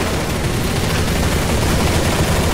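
Dense, continuous gunfire in Counter-Strike: Source on a zombie escape map, a loud unbroken wall of overlapping shots and bursts filling the whole stretch with no pauses or voices.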